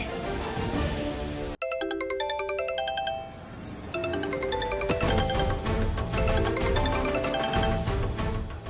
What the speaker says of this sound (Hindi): अरे फोन उठाओ गायत्री।